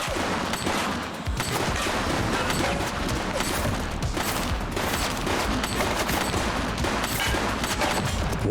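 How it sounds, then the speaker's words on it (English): Heavy, sustained gunfire in the video game The Precinct: dense rapid bursts and overlapping shots rattle on for the whole stretch, loud and close, with no talk. "He's shooting!"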